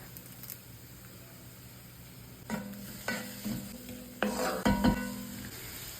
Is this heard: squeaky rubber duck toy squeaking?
no